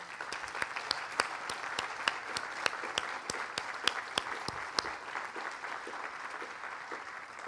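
A small crowd applauding at a transit centennial celebration, steady scattered clapping with distinct sharp claps standing out, fairly distant and even for several seconds.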